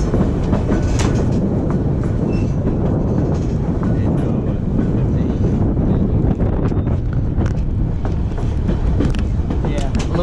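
Skagway sightseeing train on a 30-mile ride, rolling steadily on its rails with a continuous loud rumble and clatter, wind buffeting the microphone throughout, and voices faintly in the background.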